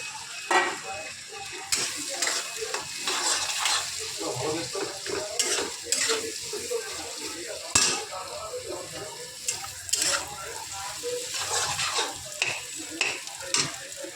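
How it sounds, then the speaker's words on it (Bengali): Onion and green chili fry in a pan under a continuous sizzle, with frequent spatula scrapes and knocks against the pan recurring every second or two throughout; no speech is heard. "তো আমি এখন পেঁয়াজটা একটু হালকা ভাজা করবো, বেশি ভাজা করবো না।"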